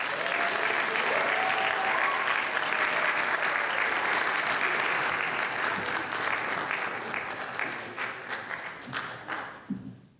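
A room full of people claps loudly to welcome a speaker at a National African American Read-In Day event, the dense applause holding steady and then thinning into scattered claps before stopping.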